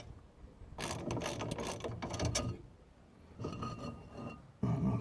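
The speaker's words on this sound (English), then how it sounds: "all I'm going to do in this instance is just remove the two 13mm bolts on the back" Close ratchet clicks and mechanical turning as a socket wrench loosens the two 13mm caliper bolts on a Ford Fiesta Mk6, in two busy bursts separated by a brief pause, with a clunk at the end.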